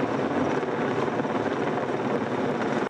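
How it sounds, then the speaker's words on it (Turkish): The world's largest firefighting and rescue helicopter, able to carry 15 tons of water, flying over forests in Muğla, Turkey. Its rotors and engine make a loud, steady throbbing drone that fills the moment and then cuts off abruptly. "Muğla semalarında süzülen dünyanın en büyük yangın söndürme ve kurtarma helikopteri."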